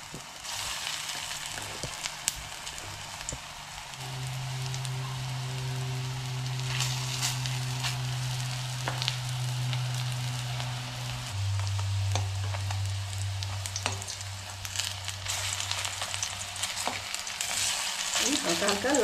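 Papaya pieces frying in a pan give a steady, rain-like sizzle with occasional stirring clicks, while a low steady hum runs underneath throughout.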